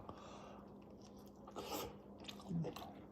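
A bite taken into a slice of thick-crust Pizza Hut–style pan pizza baked in a VEVOR pizza oven, giving a close, crisp crunch followed by chewing, with no talk.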